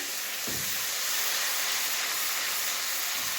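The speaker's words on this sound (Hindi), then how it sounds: "तो इसको सौते कर लेते हैं" Rice sautés in hot oil in a pan for kabuli chana pulao, giving a steady, close sizzling hiss that fills the whole few seconds without any voices.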